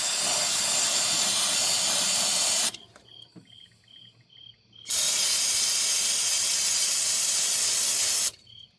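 Aerosol brake parts or carburetor cleaner sprayed onto a Mopar throttle body: two long, loud, close hissing bursts with a quiet pause between them.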